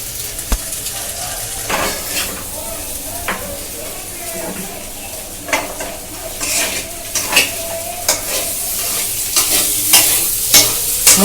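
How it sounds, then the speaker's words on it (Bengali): Ground spice paste hitting hot oil and being stirred for samosa filling, a steady sizzle punctuated by repeated spatula scrapes and pan clatter, with a voice talking faintly at times. "এই বাটা মশলাটা এবার এর মধ্যে আমি দিয়ে দেব"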